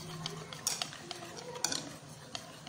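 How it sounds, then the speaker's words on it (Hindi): Jalebi batter being stirred with yogurt in a bowl makes quick clinking and scraping strokes, a few sharp utensil taps against the bowl, close and fairly quiet, with no voices. "इसलिए हम साथ में मिक्स करते रहेंगे अच्छे से।"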